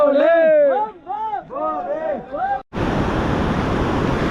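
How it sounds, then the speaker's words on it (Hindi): Someone talks briefly, then a rain-swollen mountain stream on the Manimahesh Kailash pilgrimage route takes over as a loud, continuous roar of rushing water that fills the rest of the clip. "बारिश के चलते पानी का फ्लो बहुत ज़्यादा बढ़ चुका है"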